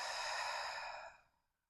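A single slow, deep exhale through the mouth during yogic breathing, soft and breathy, fading to silence near the end.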